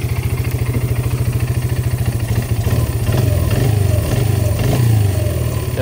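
A Kawasaki Brute Force 650 ATV engine idles up close with a steady, rapid low putter, its pulses loping slightly and swelling louder in the second half as the revs rise a little.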